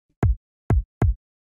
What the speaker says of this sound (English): So I'll start with the kick. This is a kick.